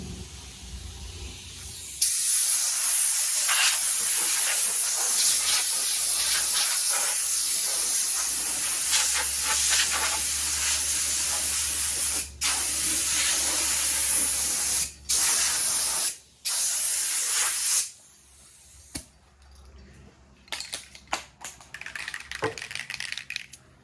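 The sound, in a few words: spray painting primer on Vendo 44 Coke machine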